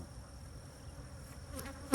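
Honey bees at a Saskatchewan bee yard hum as a faint, steady buzz throughout, close to the listener, ending in a sudden loud burst of noise.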